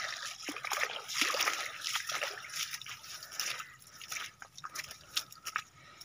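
Faint water trickles and splashes in small irregular bursts, soft drips and dribbles scattered over a quiet background.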